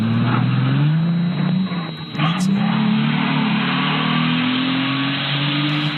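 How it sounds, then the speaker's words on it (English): A car drives past and accelerates, its engine tone rising steadily in pitch, loud and continuous with a brief dip midway before pulling away strongly. "Listen to the car."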